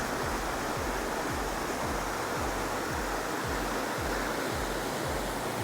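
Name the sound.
floodwater flowing through irrigation channel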